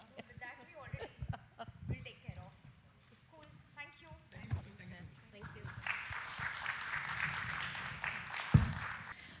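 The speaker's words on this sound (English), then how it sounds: "big round of applause for our panelists" An audience at the DIGIXX 2023 conference applauds its panelists. The clapping swells from under a speaking voice into a steady, moderately loud wash of many hands that continues to the end.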